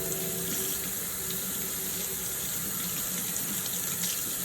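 Kitchen water tap running steadily while a knife is rinsed under it, a continuous close hiss and splash with no voices.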